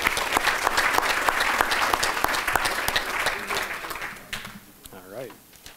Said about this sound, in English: One final round of applause for everybody up here